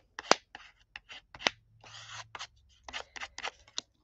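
Scissors snipping, likely through paper, during an art session: a run of sharp, close, separate cuts in an irregular rhythm, with one longer rasping cut near the middle and no voices.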